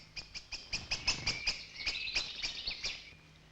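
Great tits at the nest in woodland give a run of about a dozen quick, high, evenly spaced chirps, close and fairly quiet, with no voices.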